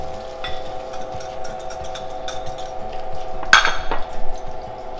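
A utensil clinks and scrapes against a bowl while sugar, cornstarch and egg yolks are mixed for pastry cream, light and close, with a louder sharp clink near the end.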